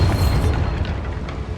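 Bombarda blasting spell from Hogwarts Legacy erupting in a loud, booming explosion that opens hard and then trails off into a rumbling, debris-filled tail, with no talking.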